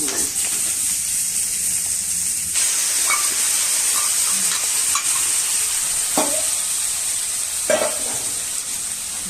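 Cumin seeds fry in hot oil with yoghurt in a pan for a fish curry, giving a constant loud sizzling hiss with a few clinks of a stirring utensil close by.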